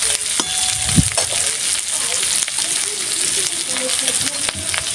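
Hilsa fish head and bitter gourd frying in a pan, a steady close sizzle with soft crackles and a brief stir or clatter near the start, no talk.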